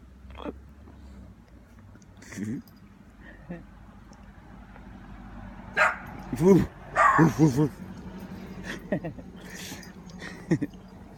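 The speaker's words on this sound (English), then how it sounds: "in there playing with a little black dog" A small black dog plays in a yard, giving a few yips and short barks, some sharp and loud in a quick burst, while people talk intermittently nearby.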